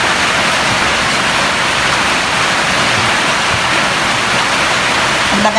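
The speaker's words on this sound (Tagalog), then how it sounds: "Lakas ang ulan ko sa amin, no? Ito na siguro sinasabing bagyo." Heavy storm rain falling in the Philippines, a dense, steady hiss that stays loud and unbroken from start to finish, with no voices.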